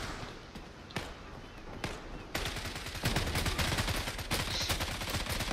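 Rapid gunfire from the online shooter Zula, a few separate sharp shots followed by a dense, loud burst of automatic fire that continues steadily to the end.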